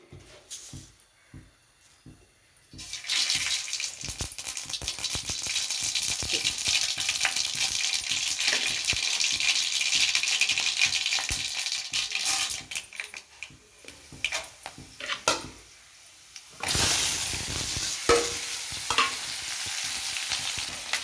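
Seeds, dried red chillies and chana dal fry in hot oil for a tempering, starting with sparse crackles, then a loud continuous sizzle with stirring clicks, a brief lull and a renewed burst near the end; no talking.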